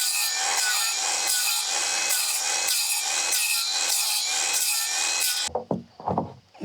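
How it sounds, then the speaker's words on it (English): On a trailer rebuild, wood is worked with rhythmic, rasping back-and-forth strokes, roughly one every half second, close and steady for about five seconds, then a few knocks and handling sounds. "just gonna chisel out where that big booger is"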